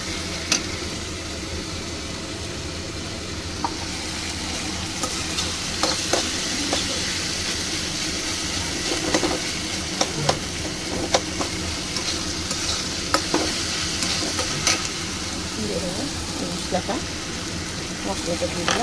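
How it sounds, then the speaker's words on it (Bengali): Onion, tomato and ground spices (turmeric, cumin, coriander, chilli) with sugar being sautéed in a pan for panchmishali dal, a steady sizzle with frequent stirring and scraping clicks, with occasional talk at the edges. "খুব ভালো করে আমি মশলাটা, এই পেঁয়াজ, টমেটো, মশলাপাতি সব একসঙ্গে খুব ভালো করে কষাবো।"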